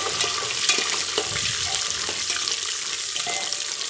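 Peanuts frying in a pan for khichdi, giving a continuous crackling sizzle with occasional stirring scrapes, close and steady, with no one speaking.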